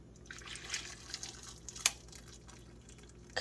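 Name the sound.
boiling water poured over blueberries and cherries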